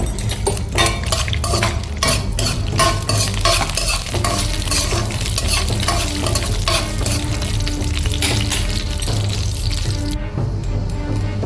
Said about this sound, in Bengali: আগে কাজু বাদামটা একটু ভেজে নেবো, নিয়ে তারপর কিশমিশটা দিয়ে একটু ভেজে নেবো